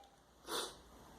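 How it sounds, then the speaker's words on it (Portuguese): A single short, breathy sneeze bursts out near the microphone, brief and moderately loud against a quiet room. "Vou até espirrar."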